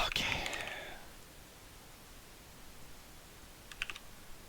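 A burst of computer keyboard typing comes in a quick cluster of clicks at first. A few more scattered keystrokes follow later against a quiet room.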